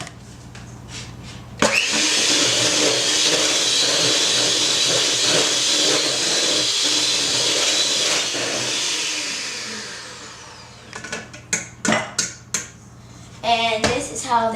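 An electric mixer whirs through a milk and flour batter, switching on abruptly and running loud and steady for about eight seconds before winding down. Short bursts of mixing and clatter follow near the end.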